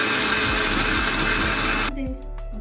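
A mixer grinder whirs loudly, blending onion, garlic and chili into a spicy paste, its steady motor drone running for about two seconds before cutting out and spinning down.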